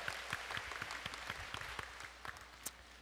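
A church congregation at a summer revival gathering gives a steady round of applause, dense crowd clapping that fills the space without any voices over it.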